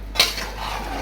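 A utensil scraping and mixing spiced duck meat in a large pan, one sharp clink near the start followed by a steady low scraping rumble, close and alone.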